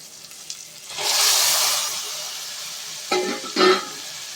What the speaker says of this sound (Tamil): இப்போ நம்ம வேக வச்ச கடலைப்பருப்பு புடலங்காயும் கொட்டிடலாம்.